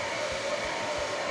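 A hair dryer blows heat onto freshly set curls, giving a steady, close whooshing whir with no pauses.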